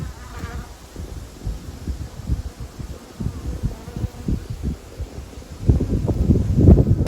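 Bees buzzing around hives in an Australian bee yard, a steady outdoor drone with wind rumbling across the microphone, growing louder toward the end.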